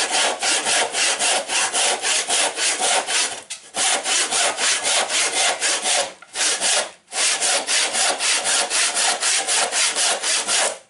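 A Krisbow back saw rasps steadily through wood in fast, even back-and-forth strokes, loud and close, pausing briefly twice before resuming.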